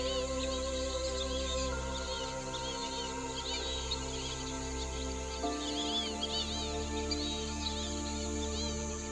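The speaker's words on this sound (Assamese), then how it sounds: "অকল চাৰিওফালে চৰাইৰ মাত" Several birds call and chirp steadily across an afternoon at Sarala wetland, overlapping high twitters over a constant low hum, with no talking.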